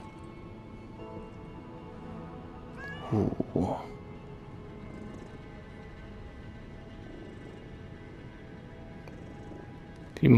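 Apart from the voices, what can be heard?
cat meowing in the video game Lies of P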